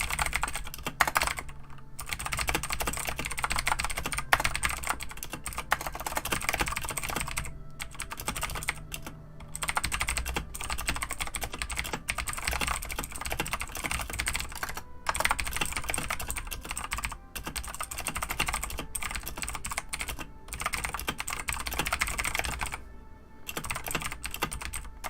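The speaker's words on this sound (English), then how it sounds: "I type pretty quick" Fast, steady typing on a computer keyboard continues for about twenty-five seconds, with dense clattering keystrokes and only brief pauses, close and clear.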